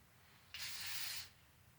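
A single short, soft hiss of hairspray, lasting under a second, in otherwise quiet surroundings.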